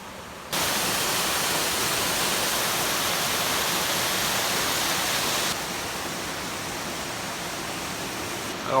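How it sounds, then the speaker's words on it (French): Cascade Fouquet waterfall on a river gives off a steady, dense rushing roar that starts abruptly, holds evenly, then eases slightly softer for the last few seconds, with no voices. "On est arrivé à cette cascade Fouquet"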